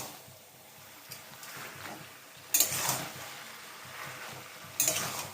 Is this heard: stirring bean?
yes